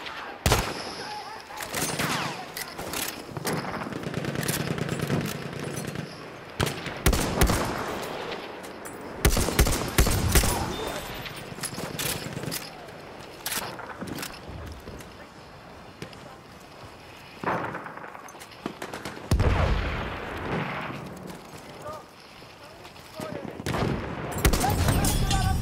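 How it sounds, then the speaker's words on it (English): Machine gun fire in the Battlefield 1 video game on the Suez map, loud bursts and scattered shots that come and go over a chaotic battlefield, with voices calling out between the volleys. "Enemy machine gun sighted!"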